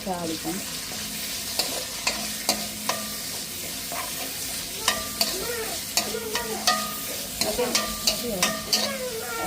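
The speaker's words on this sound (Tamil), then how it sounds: "மீன் குழம்புக்கு பெரிய வெங்காயம் கலந்து போடுவோம் மற்ற வந்து பச்சை மிளகாய் ரொம்ப கருவேப்பிலை எல்லாம் போட்டு" Onion, green chilies and curry leaves sputter in hot oil for a fish curry, a busy close sizzle full of crackling pops and repeated spoon scrapes and taps against the pan, with no one talking.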